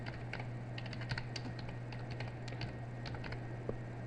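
Rapid, steady clicking of keys on a computer keyboard while HTML text is typed, close and fairly quiet over a low electrical hum, with no talking.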